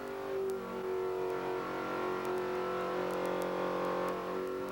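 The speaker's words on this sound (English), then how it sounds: "the engine is pulled and put on the dynamometer" A NASCAR Winston Cup race engine runs steadily on a dynamometer in a 1992 race team shop, giving a constant droning hum with layered tonal harmonics and faint intermittent clicks, fairly quiet and with no voices.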